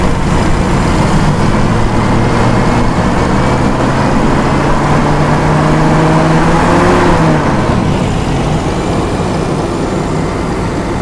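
A car engine that misfires and sputters, revved by hand with the throttle lever in a workshop, heard as a loud, sustained engine drone whose pitch climbs and holds, then drops back down.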